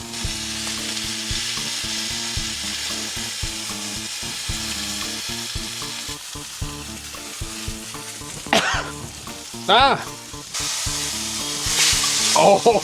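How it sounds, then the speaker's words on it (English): Ribeye steak sears in a hot pan with a steady, loud sizzle that runs throughout, broken by sharper spits and crackles near the end. "that is a beautiful sear"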